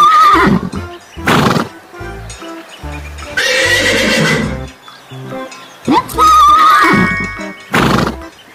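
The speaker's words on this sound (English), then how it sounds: "horse." Horse neighing on a farm-animal sound track: two loud, shrill whinnies with fluttering pitch, separated by bursts of hoof clip-clop and busy background music.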